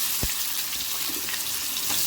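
Chopped onion dropped into hot oil for a tempering sizzles with a steady, even hiss, with one short clack near the start and no talking.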